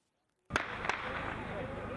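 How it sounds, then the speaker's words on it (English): Gunshots go off near a Catholic ceremonial ground at St. Augustine's College. Two sharp cracks ring out in quick succession after a moment of quiet, then a continuous wash of loud noise follows. "Frightening gunshots near the ceremonial ground of the St. Augustine's College in Seoul renders many Catholic faithful panic-stricken."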